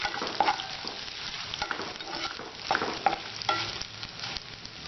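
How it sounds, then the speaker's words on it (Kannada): Chana dal and urad dal fry in a hot pan for potato saagu, a steady close sizzle with the scrape and clatter of a spoon stirring now and then, and no voices. "ಇದು ಸ್ವಲ್ಪ ಹುರಿಲಿ."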